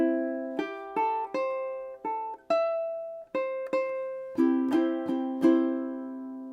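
Ukulele plays a melody with quick strummed chords between the notes, bright and close, in a short unaccompanied phrase.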